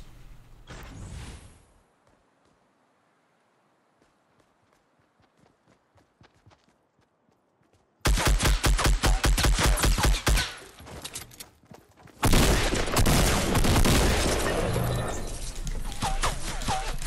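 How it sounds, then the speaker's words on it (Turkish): Bursts of rapid gunfire in a Fortnite match, shots coming from a hilltop: quiet near-silence with scattered faint taps, then loud dense volleys of repeated shots filling the second half. "Sanırım şu tepeden vuruyor"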